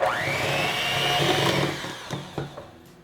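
Electric hand mixer creaming butter, sugar and an egg for chocolate mint cookie dough, a steady close motor whir that rises in pitch at the start and holds, then a few brief knocks of the beaters against the bowl near the end.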